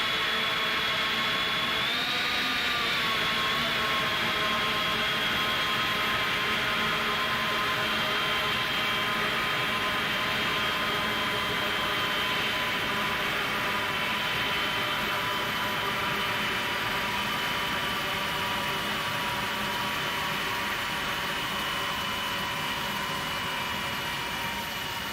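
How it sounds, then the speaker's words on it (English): iniBuilds A300F jet engines in X-Plane 11 spooling down after engine shutdown at a DHL freight hub, a steady whining drone with high tonal whistle that slowly falls in pitch over the whole stretch, continuous and fairly loud with no talk. "Okay, it's shutting down."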